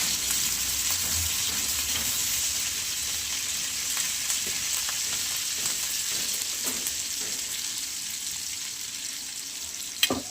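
Green chillies and garlic frying in hot oil, a steady loud sizzle that holds close and even throughout, with a brief clatter near the end and no talking.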